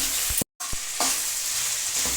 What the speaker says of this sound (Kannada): ಒಂದು ನಿಮಿಷ ಒಂದರಿಂದ ಎರಡು ನಿಮಿಷ ಫ್ರೈ ಮಾಡೋಣ